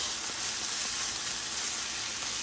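Whole spices and garam masala fry in a home kitchen pan with a steady, faint sizzle that stays even and unbroken, with no one talking.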